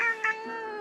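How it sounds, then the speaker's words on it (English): A sleepy cat in the video game Death and Taxes gives one short, annoyed meow, close and clear and lasting under a second. "The cat mutters an annoyed meow through her snores."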